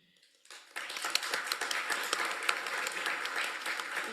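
An audience at a spring meeting bursts into applause after a quiet start. The dense, sustained clapping has a few sharper individual claps standing out from the crowd.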